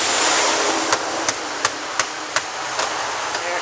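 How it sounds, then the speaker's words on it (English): An old, decayed attic vent is hammered out from inside the attic, seven or eight sharp, evenly spaced knocks ringing out over a steady background rush. "hammering out the old vent"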